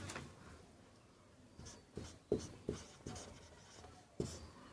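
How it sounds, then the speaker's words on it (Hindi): A note being written during a Hindi lesson on Indian constitutional rights: faint, scratchy pen strokes with a few sharper taps between them, close by and with no voices. "पहले यहां पर एक नोट लिख लेना।"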